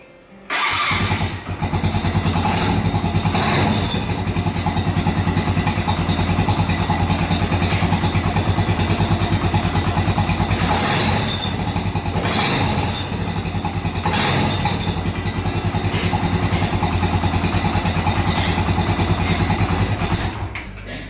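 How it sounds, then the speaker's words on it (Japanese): Suzuki GN125 motorcycle engine, freshly overhauled, running steadily at a loud, close idle with a constant thrumming beat that holds for the whole stretch, with no talking. "最後にね、もう一回エンジンかけて終わりにします。"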